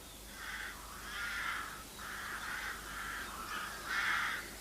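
Rooks call in harsh, repeated caws while mobbing a buzzard, several bursts in a loose rhythm at moderate distance, with no other sounds competing.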